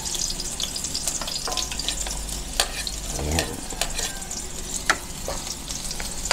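Onion and garlic fry with a steady sizzle in a pan for pakbet, with a few stirring scrapes and clinks over the constant crackle.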